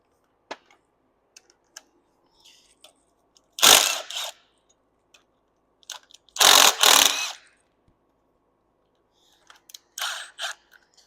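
A socket wrench ratchets out a cylinder head bolt during the teardown of a 1970s engine, with three close, sharp bursts of rapid clicking separated by quiet pauses.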